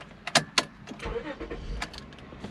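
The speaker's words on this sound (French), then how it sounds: "Ah ouais, ça démarre au quart et puis tu l'entends pas la voiture, elle est silencieuse." A Honda Accord coupe with a 3.0 V6 starts quietly and settles into a soft, muffled idle, preceded by a few sharp clicks and clunks from inside the car.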